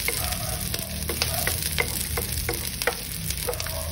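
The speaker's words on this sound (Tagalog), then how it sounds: "Saute the garlic," Garlic and onion sauteing in a pan, a steady close sizzle broken by repeated stirring scrapes and clicks at an irregular rhythm, with no talking.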